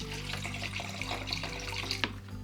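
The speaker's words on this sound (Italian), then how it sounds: "a questo punto aggiungiamo un po' d'acqua" Water poured into a bucket of thick wall and ceiling paint, a continuous close splashing and gurgling stream with small drips and knocks, steady throughout and free of speech.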